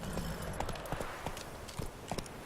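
The horse Roach trots along in The Witcher 3 video game, hooves clip-clopping in a quick, steady rhythm against a quiet game backdrop, fairly close.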